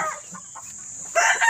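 Hens in a backyard farm cluck and call close by, a few short throaty clucks followed by a louder burst of squawking toward the end, heard alone without talking.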